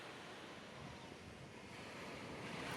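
Surf rolling in on Bapatla Haritha beach, a steady broad wash of breaking waves with wind noise across the microphone, continuous and fairly loud throughout with no voices.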